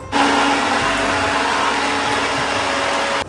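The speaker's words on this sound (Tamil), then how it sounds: "பட்டை, ஏலக்காய், கிராம்பெல்லாம் இதெல்லாம் சேர்த்து நம்ம மிக்ஸ் பண்ணிடலாம்" A kitchen mixer grinder whirs loudly and steadily as it grinds cinnamon, cloves and cardamom into a paste, running continuously before cutting off abruptly at the end.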